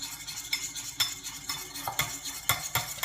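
A hand cream emulsion of shea butter is stirred in a bowl set in a shallow bath of cold water, giving soft rhythmic scrapes and clinks that repeat roughly twice a second, close and quiet.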